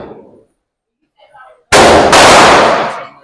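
Two rapid handgun shots from an everyday carry pistol fired outdoors, very loud and close, with a short trailing echo and a little muffled talk just before them.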